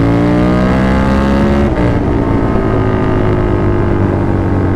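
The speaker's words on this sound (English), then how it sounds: "Downshift. Downshift." A KTM 1290 Super Duke R motorcycle engine runs loud and close, its pitch stepping and falling through a downshift with a brief dip in the roar, then holding a steady rumble.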